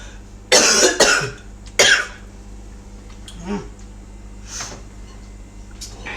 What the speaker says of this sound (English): I hate it when I'm speaking and I start coughing.